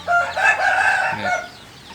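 Chickens fed cooked rice in the morning give lively, excited clucking and short crowing-like calls, close and fairly loud for about a second and a half before fading, with no talking.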